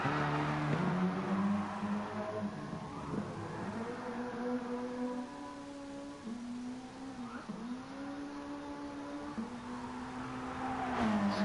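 A race car's engine in Gran Turismo Sport roars through a rally-style lap, revving up and down with repeated gear shifts and sweeping pitch changes, loud and continuous throughout.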